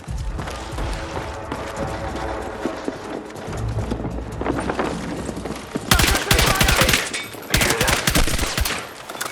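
Bursts of suppressive gunfire in the video game Battlefield 6, with clattering, galloping-like footsteps and busy combat noise early on, then loud, dense volleys of rapid shots in the second half.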